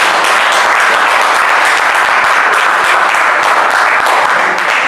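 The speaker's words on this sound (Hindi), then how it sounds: "शुरुआत करने से पहले गुजारिश करूंगी कि मेरे हौसलों को अपनी तालियों के साथ बढ़ाएं" Steady, dense applause from a poetry-reading audience fills the whole stretch, loud and even, with no voices over it.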